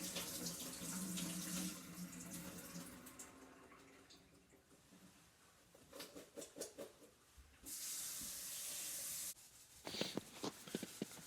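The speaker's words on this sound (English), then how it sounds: "wash them off in the pot here, rinse them out, refill it again with cold water" Running tap water splashing into a pot, with bursts of louder filling and rinsing, some clanks and drips between, no talking.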